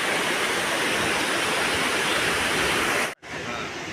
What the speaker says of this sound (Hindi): नीचे 3 से 4 स्टेप में भाई ये झरना बहता है।